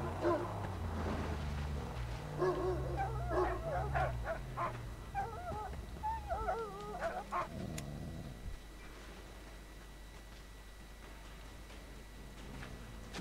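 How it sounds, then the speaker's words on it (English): A dog in the Mad Max video game barks and yips in short bursts while sniffing out buried mines, mixed with game music and engine rumble, the barking fading after several seconds. "He smells something. Ooh, who would have thought? The dog can find mines."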